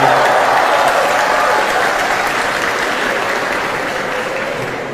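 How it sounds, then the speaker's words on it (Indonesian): Sustained audience applause fills the room at an Indonesian talk, a dense steady clapping that holds loud throughout and fades slightly toward the end, with no voices over it. "Kenapa tepuk tangan nih?"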